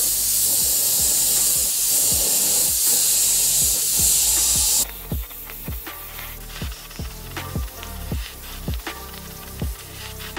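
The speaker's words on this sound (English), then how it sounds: "now I'm going to spray a base coat of silver with my Iwata LPH 80" An Iwata LPH 80 spray gun with a 0.8 needle and nozzle and an E2 air cap sprays silver base coat in a loud, continuous hiss for nearly five seconds. Then it stops and a string of light clicks and knocks follows.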